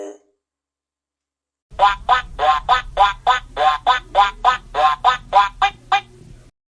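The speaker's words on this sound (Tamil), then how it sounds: "குள்ள குள்ள வாத்து குவா குவா வாத்து" A rapid run of about fourteen evenly spaced duck quacks, loud and close, over a low steady hum, after a brief sound and silence.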